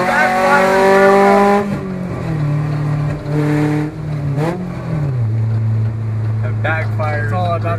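Loud engine of a 1999 Honda Civic with an open header exhaust revving and droning outdoors, pitch rising and falling through gear changes, with people talking over it.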